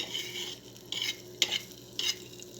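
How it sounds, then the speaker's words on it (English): Butter melts in a pan before beaten eggs go in, giving a steady low sizzle with a few louder scraping stirs spread across it, close by and with no voices. "Melt the butter in a pan."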